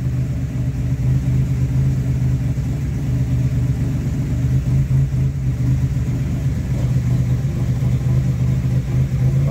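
A Pontiac Fiero Turbo engine idles steadily up close, a continuous low rumble with a slightly uneven hum and no voices.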